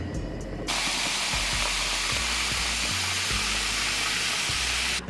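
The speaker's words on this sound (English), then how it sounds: "First, I'm going to heat up the stove." A stove heating up for cooking boba tapioca pearls gives a loud, steady burner hiss that starts abruptly after a short pause and runs evenly close by, with no talk.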